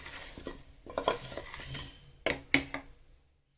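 Whole dried chillies being stirred into a Sindhi curry, a spoon scraping and clinking against the pot in several short bursts, with a stronger pair of clinks near the end before it goes quiet.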